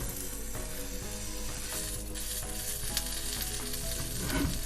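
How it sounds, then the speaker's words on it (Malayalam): A bread omelette frying in a pan gives a steady, loud sizzle throughout, with a brief scrape and rustle near the end as it is flipped. "ഇപ്പൊ ബ്രെഡ് ഒന്ന് ടോസ്റ്റ് ആയിട്ടുണ്ടാവും ഒരു സൈഡ്, നമുക്ക് ഇന്ന് ഫ്ലിപ്പ് ചെയ്ത് കൊടുക്കാം"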